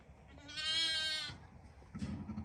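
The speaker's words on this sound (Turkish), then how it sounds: "diğer koyunlar da burada" A single loud, wavering bleat from a nearby sheep, followed by quieter shuffling and a brief low rustle.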